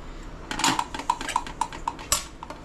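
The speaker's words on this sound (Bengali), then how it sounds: "দিয়ে একটু নাড়িয়ে দেবেন এইভাবে, যাতে সম্পূর্ণ মিশে যায় নুন আর হলুদটা" A metal spoon stirs salt and turmeric into dal in a cooking pot, making a quick series of light, bright clinks against the pot's side, close and fairly quiet.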